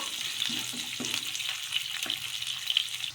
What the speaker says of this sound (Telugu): బాగా వేడెక్కిన తర్వాత ఇందులోకి చిన్నగా కట్ చేసుకున్న ఉల్లిపాయ ముక్కలను అయితే వేసుకోవాలి.